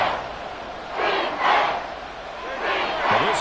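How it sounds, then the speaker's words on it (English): A football stadium crowd roars loudly, swelling and falling in waves of cheering and shouting across a dense, constant background of noise. "this crowd doing their best to make a lot of racket"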